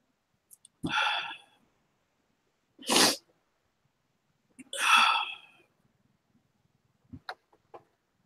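Two sharp, loud sneezes a couple of seconds apart, with a few small clicks and faint sounds in a quiet room afterward.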